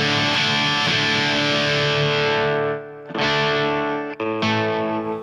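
Electric guitar played through a Marshall YJM100 head with the guitar's volume knob backed off, giving a sustained, moderately driven tone with effects; notes ring continuously with two brief dips between phrases, no talking.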